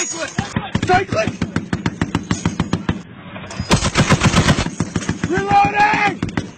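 .50 caliber machine gun firing a full belt during a firefight with the Taliban, loud rapid bursts of heavy shots in long strings with brief pauses, close and dominant, with voices shouting between bursts.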